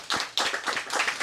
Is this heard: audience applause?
yes